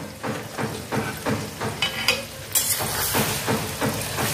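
Potato frying with spices in a covered pan over low heat for a catfish curry, giving a dense sizzle with rhythmic stirring scrapes that recur every half second or so.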